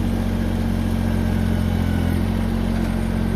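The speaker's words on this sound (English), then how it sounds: "That's how you do a 4x5 bale with a tiny tractor." A 23 hp Massey Ferguson GC2310 subcompact tractor engine running under load while lifting a 4x5 round hay bale, a steady, loud diesel drone with a constant low throb and no pauses.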